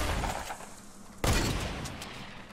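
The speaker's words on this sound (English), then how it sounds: "Shooting us from like all angles right now." Rapid enemy gunfire in the Fortnite video game, a burst of shots with one sharp loud impact midway followed by continuing crackling fire from several directions.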